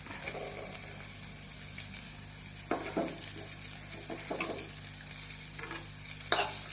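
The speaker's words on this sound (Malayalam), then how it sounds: "സവാള ഇതിലേക്ക് ഇനി ഇട്ട് കൊടുക്കാം" Sliced onions frying in coconut oil in a pan for an egg masala, a low steady sizzle with a few scraping stirs of a spoon, fairly quiet with no voices.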